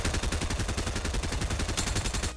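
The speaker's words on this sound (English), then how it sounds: "we have the combat SMG coming in" Combat SMG from Fortnite Season 3 firing in a sustained rapid automatic burst for over two seconds, loud and close, dense cracking shots that cut off abruptly at the end, with no talking.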